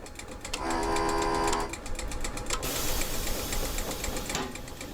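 Electric passenger train in the SimRail simulator game pulling away from a station, a loud steady hum with a rising tonal whine and a brief horn-like tone early on, then continuous rolling rail noise.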